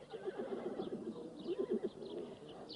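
Horses tethered at an expedition camp for the night give faint neighs and whinnies, with soft stirring and distant bird coos in the background and no talking.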